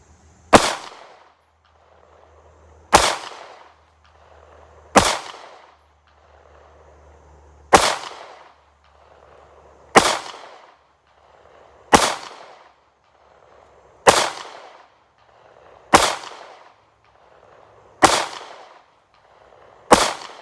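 Pistol shots from a Guttersnipe Cut CM9 9mm fitted with a Meprolight FT Bullseye optic during accuracy testing, ten loud, sharp reports fired alone at a slow, steady pace of about one every two seconds, each followed by a short echoing tail.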